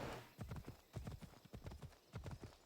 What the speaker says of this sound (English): I'm going to steal a horse.